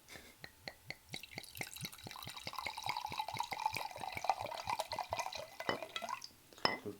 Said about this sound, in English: So let's get the ASMR pour, the obligatory pour.